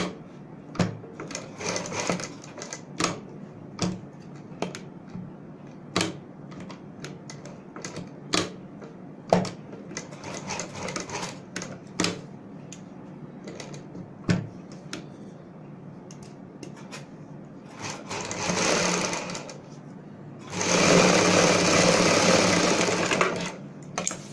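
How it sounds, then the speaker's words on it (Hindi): A sewing machine stitches palazzo pants with bead trim along the side, first in short, spaced bursts of stitching, then in two longer continuous runs near the end, close and loud. "आपने बड़े ही ध्यान से मशीन चलानी है"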